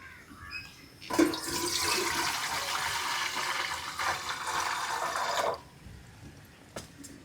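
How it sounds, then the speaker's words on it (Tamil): Water is poured into an idli pot in a village kitchen, a steady splashing pour of about four seconds that starts abruptly and stops, with quiet surroundings before and after. "தண்ணியை ஊற்றிடுவோம்."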